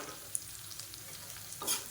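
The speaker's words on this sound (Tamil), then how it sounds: "இப்போ இது எல்லாத்தையும் நல்லா வதக்கி விட்டுக்கலாம்." Onion and a small piece of tamarind sauté in a pan for carrot chutney, giving a steady, soft frying hiss with a faint stir scrape and a brief utensil clink near the end, and no voices.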